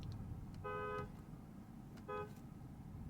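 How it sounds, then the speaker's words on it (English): Tesla Model 3 Highland car horn sounding twice, two short bright honks about a second apart, heard faint and distant over steady low road and cabin rumble. "It sounds so distant, so far away, like someone out there is using their horn."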